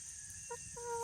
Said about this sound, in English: we have a rooster next door